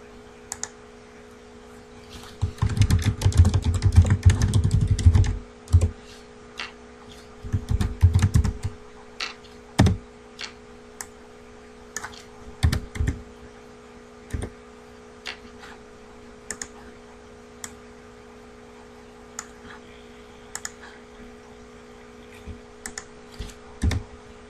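Fast clicking keystrokes on a computer keyboard, dense bursts of typing early on, then sparse single taps and short runs spread over the rest, close and moderately loud over a faint steady hum.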